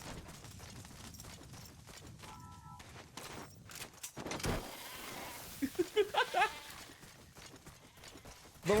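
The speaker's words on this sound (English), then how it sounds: "We will extract one goat." A goat bleating in Metal Gear Solid V, several wavering bleats late in the sequence over a faint background of game sounds and footsteps.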